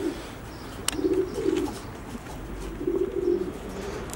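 Breeding pigeons of Janssen, Roeper and Stichelbaut lines, kept in pairs in a loft, coo close by in two soft rolling bursts with a pause between, with no talking.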